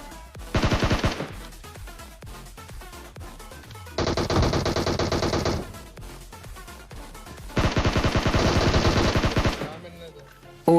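Automatic gunfire in PUBG Mobile comes in three long rapid bursts of close, loud shots, with brief quieter gaps between them and no talking.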